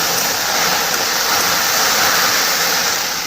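Water pours off cooked rice as the pot is tipped, a loud, close, steady rush that runs unbroken from start to finish.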